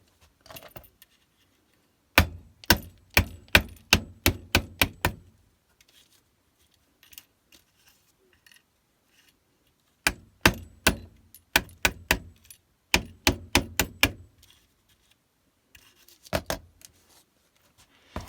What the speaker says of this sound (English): I'm going to hammer these out because I don't want any sharp edges on them.